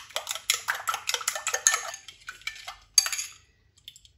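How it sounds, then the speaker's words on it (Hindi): A metal spoon rapidly whisks a salted, food-coloured batter in a bowl. Quick, rhythmic close clinks and scrapes run for about three seconds, slow to a few separate taps, then stop, with no talking. "अब इसको अच्छी तरह फेंट लेंगे।"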